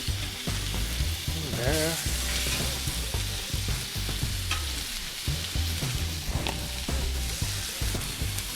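Sausage pieces fry on a Blackstone griddle with a loud, dense sizzle, under steady spatula scraping and tapping, while a voice speaks briefly near the start.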